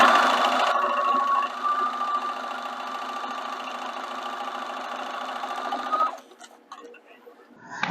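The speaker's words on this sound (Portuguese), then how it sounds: "Deixa eu costurar aqui." A domestic sewing machine stitches through clear plastic with a steady, close whir for about six seconds, then stops, leaving faint handling sounds.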